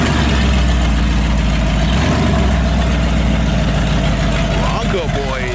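A Ford Bronco idles with a deep, loud, steady rumble at an outdoor car meet, with crowd noise and faint voices mixed in.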